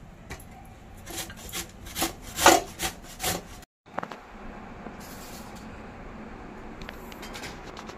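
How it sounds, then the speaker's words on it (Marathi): Raw mango grated for a sweet-sour jaggery chutney: rhythmic close scraping strokes against the grater, then a softer, steady rasping rub, with no talking. "कैरी किसून झाली आहे"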